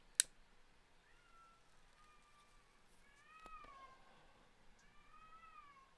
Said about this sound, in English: we got our cat meowing his head off